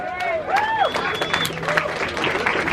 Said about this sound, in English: Let's give him a round of applause, yeah?